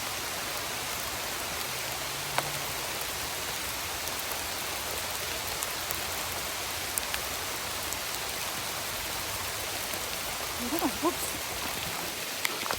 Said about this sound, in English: It's quite nice when it's raining.